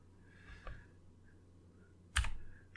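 Computer keyboard typing while entering search terms: two short bursts of key clicks, one faint near the start and a louder, denser cluster later, in a quiet room with no talk.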